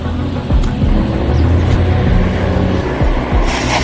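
A van pulling away in the Ice Scream horror mobile game, a steady low engine rumble that holds throughout with a few brief thumps and a rising hiss near the end, no voices.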